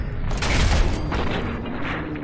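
A single heavy gunshot from a rifle in the video game Fallout 4, a loud booming blast with a rough, rumbling tail that decays over about two seconds.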